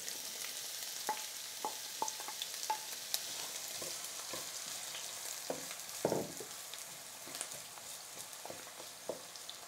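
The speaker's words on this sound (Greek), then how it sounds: "Στο ίδιο λάδι τσιγαρίζουμε το κρεμμύδι." Onion sautéing in oil left from frying potatoes, a soft continuous sizzle with occasional light scrapes and clicks of a utensil, fairly quiet and steady.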